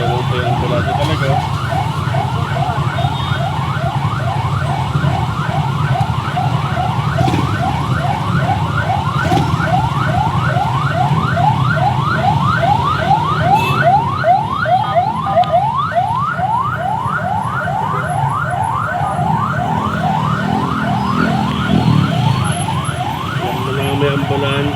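Ambulance siren wailing steadily in rapid repeating sweeps amid street traffic, loud and continuous throughout with engine rumble underneath and a voice speaking at moments.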